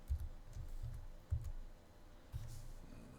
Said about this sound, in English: My keyboard's acting kind of weird.